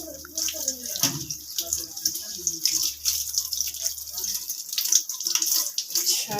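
Very cold tap water runs and splashes as muddy carrots are washed, a continuous close trickle with uneven splashes and handling noises throughout.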